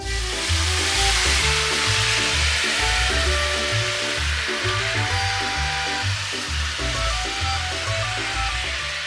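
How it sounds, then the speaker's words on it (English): White wine poured into a hot pan of browned pancetta for bucatini all'Amatriciana sizzles and fries loudly and steadily up close, a continuous hiss with no voices. "Now we're going to add 2 ounces of white wine."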